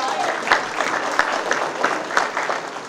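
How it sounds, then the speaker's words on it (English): Attendees at a Brockton Democratic City Committee breakfast clap their hands in a loose, moderately loud burst of applause, with a voice talking over the clapping. "Clap your hands if you're a real Democrat"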